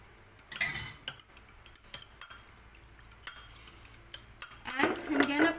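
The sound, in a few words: mixing chocolate oatmeal cookie batter with spoon in bowl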